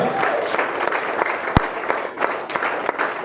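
A church congregation applauds during a Sunday worship service in Yopougon, steady crowd clapping throughout with one sharp loud clap near the middle, faint voices mixed in.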